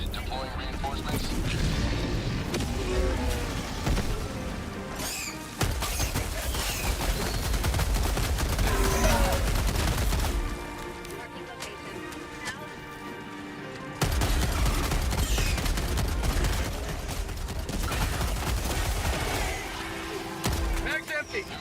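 Continuous video game gunfire in a chaotic battle, with dense rapid shots, explosions and crashes layered over game music and effects, briefly easing before the barrage resumes.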